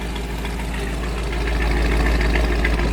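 A warm V8 in a 1956 Cadillac Sedan Deville idles steadily with a deep, even rumble and slight rhythmic pulsing, close and alone without talk.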